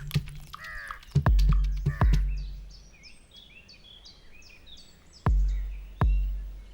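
A New Caledonian crow calls in forest with a few hoarse, nasal caws. Several sharp knocking thuds and a string of higher bird chirps sound nearby, with no voices.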